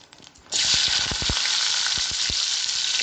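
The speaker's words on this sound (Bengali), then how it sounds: "এবার আমি পেঁয়াজগুলো ভেজে নেব।" Sliced onions and okra hit hot oil in a pan and burst into a loud, steady sizzle, with a few soft stirring knocks and scrapes under the frying hiss.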